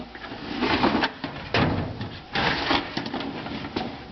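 A steel tool box drawer holding electrical supplies slides open and shut several times, rattling scrapes and clunks in close, uneven bursts.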